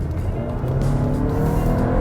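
A 2019 Audi Q3 with a 2-liter turbo engine accelerating, heard from inside as a steady rising engine drone with a faint whine and road rumble, no speech over it.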